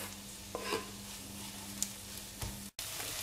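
Radicchio cooking in a pan for risotto, a steady soft sizzle with a few brief stirring scrapes and a short gap near the end, with no talking.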